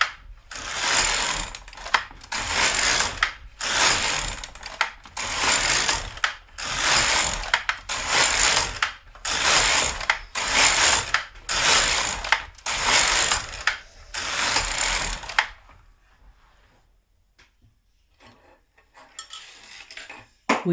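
A GK 370 knitting machine carriage knits 12 rows, sliding back and forth with loud ratcheting clacks. Each pass runs about a second with short gaps between, repeating steadily before the sound stops.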